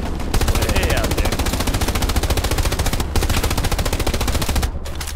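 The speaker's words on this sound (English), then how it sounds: "Take it easy on the machine gun, just use it for essentials" Automatic machine gun fire in the WWII shooter game Hell Let Loose: loud, sustained rapid bursts with only brief breaks, close and dominating the scene.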